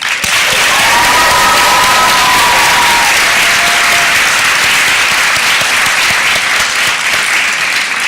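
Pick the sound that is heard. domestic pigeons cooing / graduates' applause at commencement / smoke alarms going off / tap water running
graduates' applause at commencement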